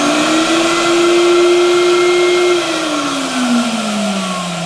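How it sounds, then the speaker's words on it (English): Vacuum running loud and close with a steady whining motor tone that holds, then sags lower partway through, alone without any talk. "and then hit the vacuum."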